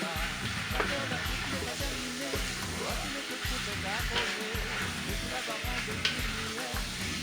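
Beef, carrot and potato pieces sizzle and fry in sauce as they are stirred in a pan for a beef curry, giving a steady close crackle with occasional scraping knocks throughout.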